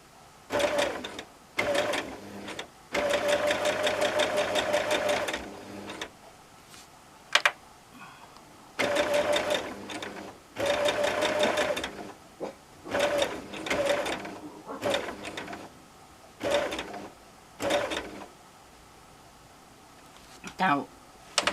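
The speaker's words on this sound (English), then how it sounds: "then you just sew down so your needle does not go on your line" A domestic sewing machine stitching a buttonhole runs in loud, steady bursts of rapid needle chatter, stopping and restarting several times with short pauses between runs.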